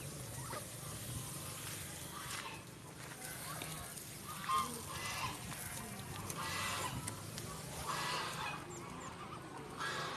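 Many ducks and geese with chickens at a farm zoo, a busy overlapping chorus of honks, quacks and clucks, steady and moderately near, with bursts of calls rising above the din and some faint talk mixed in.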